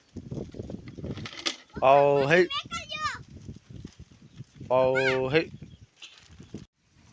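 Two drawn-out moos from cattle being watered at a farm, a few seconds apart, rising over a low background of rustling and shuffling.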